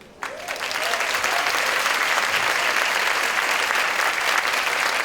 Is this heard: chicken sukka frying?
no